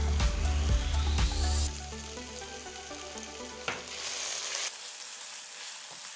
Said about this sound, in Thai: เอาพริกที่เราโขลกไว้ลงไปผัดเลย